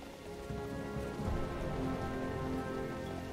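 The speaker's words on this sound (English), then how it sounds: "Oh, look. Another game where it rains." Steady rainfall in the World of Warcraft video game, a soft continuous patter of drops that swells slightly after the opening moment and stays even, quiet and without voices.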